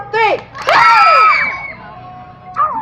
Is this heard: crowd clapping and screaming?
yes